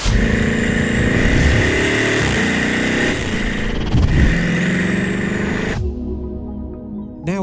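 A Bugatti Chiron La Mer Argentée supercar on the move, its engine a loud, steady, close drone with a brief surge midway before the tone drops abruptly near the end, with no talk.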